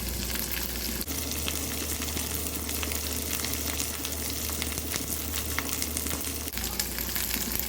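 Ginger and garlic frying in hot oil on a stove for chicken pickle give a steady, dense sizzle that runs unbroken and fairly loud, with no voices.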